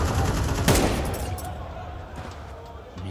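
Rapid gunfire in a competitive Counter-Strike 2 playoff match, a sharp burst of shots up front followed by scattered fainter reports over a busy game background.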